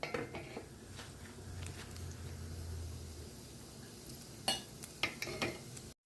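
Grated ginger fries in a pan for pork string bean fried rice, giving a soft steady sizzle with occasional scraping and stirring clatter of a utensil against the pan, close and fairly quiet.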